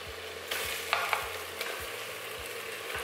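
Chicken pieces go into a hot pan over medium-high heat while cooking a Spanish chicken stew, giving a steady close sizzle broken by a few sharp scrapes and clacks of a utensil stirring.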